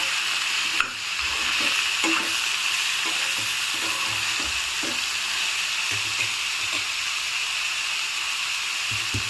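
Finely chopped tomato frying in a pan for bottle gourd chutney, a steady hiss and sizzle with soft stirring scrapes throughout, close and even, with no voices.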